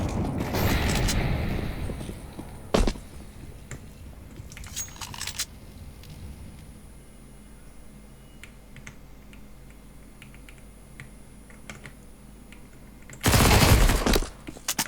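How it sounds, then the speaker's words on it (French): Counter-Strike 2 match in which a flashbang and a molotov are thrown amid gunfire: sharp bursts and clattering shots open and close the stretch, with scattered clicks and quieter game noise between. "Throwing flashbang. Grenade. Throwing fire."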